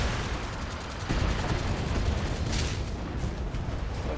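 Mech weapons firing in the BattleTech video game, a dense, sustained barrage of blasts and rumbling impacts rolling on for several seconds with no talk over it.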